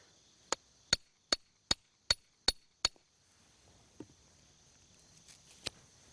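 A hammer drives garden string against a metal edge to cut it, giving seven sharp, evenly spaced metallic strikes in quick succession, then a few scattered softer knocks in a quiet outdoor space.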